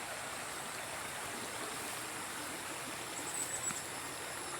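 Water of a small stream runs continuously in an outdoor setting where eel traps are being set, a steady, even rushing hiss with no talk.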